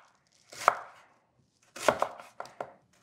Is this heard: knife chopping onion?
yes